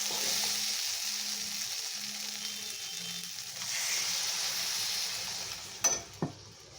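Chickpea curry masala sizzling steadily in a pan after salt is added, with a faint low hum and a couple of sharp clinks near the end; no one speaks.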